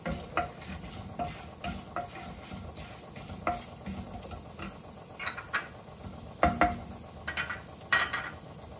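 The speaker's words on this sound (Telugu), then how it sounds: "కొంచెం బ్రౌన్ కలర్ వచ్చేంత వరకు ఫ్రై చేసుకుందాం." Urad dal and chana dal frying in a pan on the stove, with soft sizzling and intermittent scraping and stirring clicks of a spoon against the pan, fairly quiet and close.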